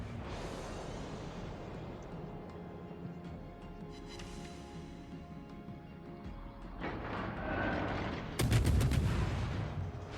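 Naval gunfire rumbles through a World of Warships: Legends battle, with a steady low drone of distant cannon fire that swells near the end into a louder, closer burst of shots.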